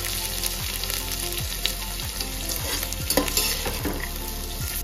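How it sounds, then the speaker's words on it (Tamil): Onions, green chillies and curry leaves frying for biryani: a loud, continuous sizzle with stirring scrapes and utensil taps close by, over a steady background hum, with no one speaking. "பச்சை மிளகாய் இந்த கருவேப்பிலை போட்டிருக்கோம். ஓகே, நல்லா நம்ம வதங்க விடுவோம்."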